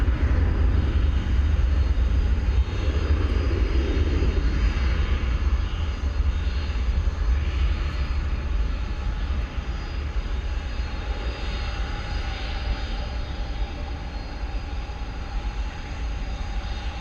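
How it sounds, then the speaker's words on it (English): A jet airliner departs DFW Airport at night, bound for Chicago Rockford International, its engines a loud, continuous broadband roar that holds steady for the whole stretch and eases slightly toward the end. "this aircraft is going to Chicago Rockford International Airport"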